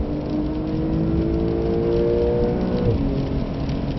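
A Porsche Carrera 992 drives the wet Nürburgring, its engine holding a steady, loud drone from inside the car over constant road and rain hiss, with a brief pitch drop as revs shift before settling again.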